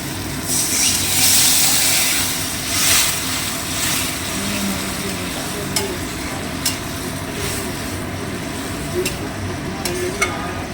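Fish frying in hot oil in a pan for a Bengali fish oil curry, with water poured in, gives a loud, continuous sizzle and hiss, strongest in the first few seconds, then a steady crackle with a few sharp ticks.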